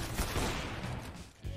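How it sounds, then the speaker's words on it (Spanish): Gunfire in the video game CS:GO, a dense loud burst of shots and game noise over the whole stretch, easing briefly before another loud hit near the end. "Le meten un disparo descomunal y el tío sigue yendo hacia adelante."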